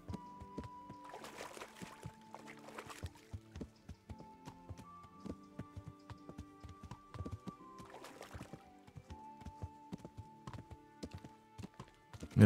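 Hooves clip-clop in a steady riding rhythm as a horse carries its rider in the medieval video game Kingdom Come: Deliverance, with faint game music tones in the background.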